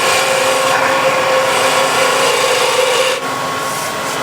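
Continuous dry, rasping scrape of a spindle gouge cutting spinning wood on a lathe, steady and close, with a brief dip near the end.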